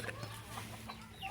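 Backyard chickens cluck softly at feeding time, several short clucks scattered over a quiet outdoor background, faint and at a little distance.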